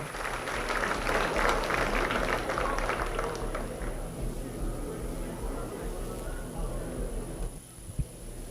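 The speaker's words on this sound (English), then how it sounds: "make sure you give everybody a round of applause" Applause ripples through the show ring at the Dodge County Fair supreme livestock showmanship contest, a dense burst of clapping that gradually thins out, with a single sharp knock near the end.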